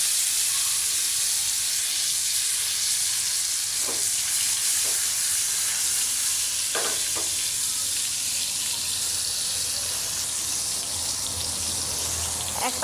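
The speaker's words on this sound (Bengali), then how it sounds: "মাছগুলো দিয়ে উল্টে পাল্টায়া ভেজে নেব।" Fish frying in soybean oil in a hot frying pan gives a steady, loud hiss and sizzle throughout, with a few faint clinks from the pan.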